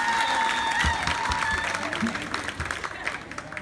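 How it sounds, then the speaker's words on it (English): A crowd of parents claps steadily throughout at a secondary school graduation, sustained applause filling the room with no voices standing out. "Parents, can you clap for your children?"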